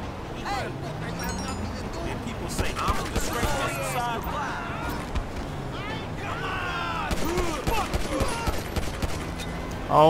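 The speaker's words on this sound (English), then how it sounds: "Oh shit, it's a gun shootout." Rapid gunfire shootout in GTA V, with bursts of shots crackling through a steady din while people talk and shout over it.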